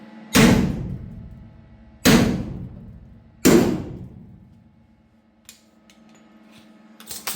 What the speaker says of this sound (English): I'll center punch these holes here